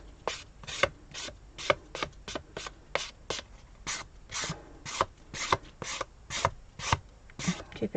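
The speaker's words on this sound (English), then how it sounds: "I'm just going to take a buffer block that you use to do your nails with" A nail buffer block is rubbed quickly back and forth along a fuzzy paper card edge, giving a steady run of short, close, dry rasping strokes in a regular rhythm with no talking.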